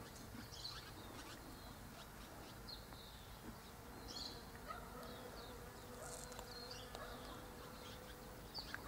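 Bees buzz around primrose oxalis flowers outdoors, a faint steady drone with a few nearer passes rising briefly louder, and soft bird chirps now and then in the background.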